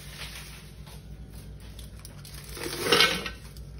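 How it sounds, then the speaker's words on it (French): Pieces of dark chocolate, 200 g, tumble into the bowl of a Thermomix TM6 for a brownie, a faint clattery clink and rattle building near the end of a quiet kitchen stretch. "On va commencer par mettre notre chocolat. Donc 200 g de chocolat noir."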